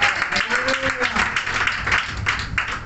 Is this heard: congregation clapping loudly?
yes